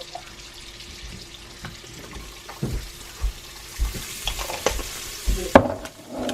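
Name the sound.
minced garlic frying in butter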